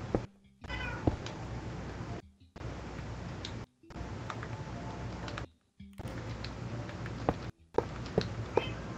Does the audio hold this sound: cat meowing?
yes